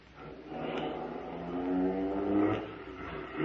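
A getaway car drives off from the curb outside a bank in an old-time radio drama, its engine revving and whirring steadily and fairly close, with a slight swell as it pulls away.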